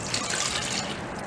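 Water from a glass poured into a pressure cooker holding raw mangoes for aam panna, a steady close trickling splash lasting just over a second with no talk.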